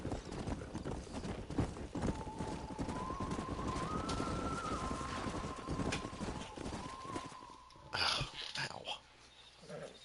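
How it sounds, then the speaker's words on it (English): Horse hooves clip-clop in the Red Dead video game, a steady rhythmic trot under ambient game sound with a brief high whinny-like tone, before the hoofbeats cut off near the end. "We got some fine horses."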